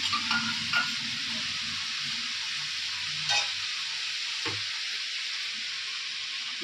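Ground spice paste hitting a hot pan in a home kitchen sizzles in a steady, bright hiss, with a few soft scraping stirs of a spoon cutting through near the start and middle.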